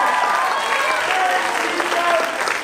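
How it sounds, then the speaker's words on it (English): Audience at the GooseFest concert claps for the young organisers in a continuous, fairly loud burst, with cheering voices and crowd noise mixed in. "Let's clap for them."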